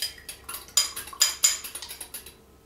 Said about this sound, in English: Take our fork, whisk that up a little bit.